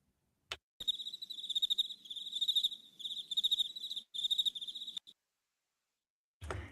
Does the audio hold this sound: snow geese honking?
no